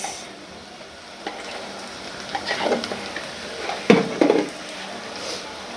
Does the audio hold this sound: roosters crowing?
no